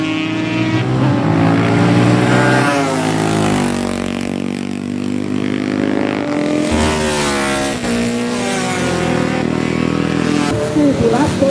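A 250cc vintage racing motorcycle engine at an oldtimer Grand Prix race in Schwanenstadt, its loud sustained drone rising and shifting in pitch close by throughout, with someone talking over it.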